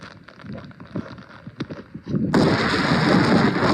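Strong wind on the Scafell Pike descent, irregular buffeting bursts at first, then a loud sustained roar of gusts battering close by, with no speech.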